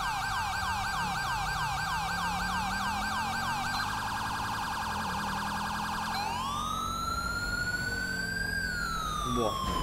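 A loud wailing ambulance siren in a police video game cycles rapidly, then shifts into slow rising and falling sweeps over a steady engine drone, close and continuous throughout.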